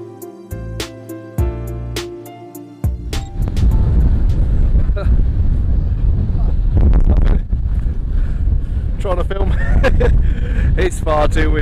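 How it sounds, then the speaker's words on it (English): Heavy wind on the Lawley hill in Shropshire buffets the microphone in a loud, roaring rush, with a person talking over it in bursts. "It's far too windy, man"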